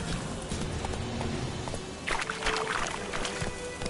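Horse hooves of Roach in The Witcher game, clip-clopping at a steady walking rhythm. Faint, with some splashy rustle partway through and no talk.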